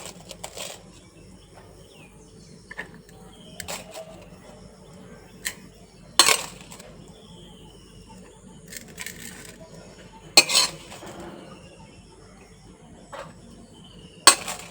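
Metal serving utensils clink sparsely against a plate as rice, fried tamarind, onion chutney and sautéed onions are served. A handful of faint, isolated taps and clinks are spread several seconds apart over a quiet background.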